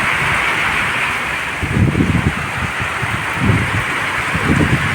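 Heavy downpour on a flooded rooftop, a dense steady wash of rain noise with low gusty rumbles of wind buffeting the microphone.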